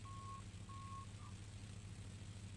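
A cockpit warning alarm in a Spitfire Mk1 flight simulator sounds on final approach: two steady beeps and a shorter third tone over the constant low drone of the engine.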